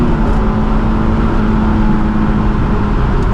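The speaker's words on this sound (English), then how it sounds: "You really have to rev this thing out" A Honda S2000 engine held at high revs, a loud, steady droning roar with a constant tone and no breaks, heard up close from inside the car.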